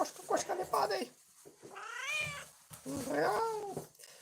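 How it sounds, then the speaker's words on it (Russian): A person speaks briefly, then a cat gives two drawn-out, rising-and-falling meows close by. "Ох, кошка."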